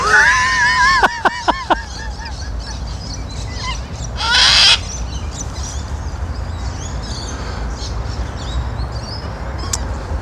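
Cockatoos let out harsh, loud screeches at close range: a burst of rising calls at the start and a raucous squawk a few seconds later, over steady outdoor background noise.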